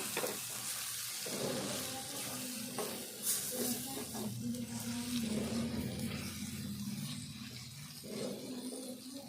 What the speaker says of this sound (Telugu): ఇప్పుడు ఇట్లా దగ్గర వేగాలి